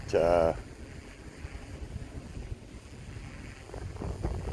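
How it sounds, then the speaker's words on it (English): Strong outdoor wind roars and buffets steadily against the microphone while a drone flies, after a brief loud tonal burst at the start, with no talking. "Really windy out."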